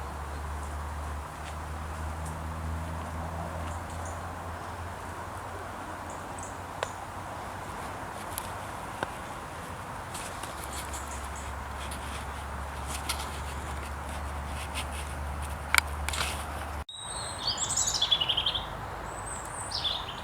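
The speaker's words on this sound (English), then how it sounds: "That is the sound of a robin." Robin singing in woodland, faint and distant thin chirps over steady low rumble and outdoor ambience, with a few brief rustles near the end.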